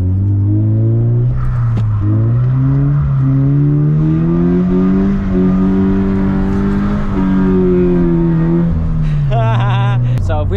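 A drift car revs hard from inside the cabin, its engine holding a loud, droning note that climbs and dips as it slides through an intersection, ending with a brief sharp squeal.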